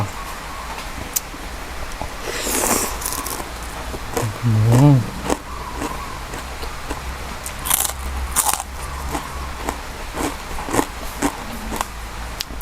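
Crispy Thai-style pork belly crackling being bitten and chewed close up, with a few loud crunchy bites standing out over low background noise and a voice humming in between.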